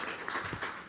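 Brief burst of dense audience applause at a Chicago Cubs introduction event for Joe Maddon, steady and full throughout.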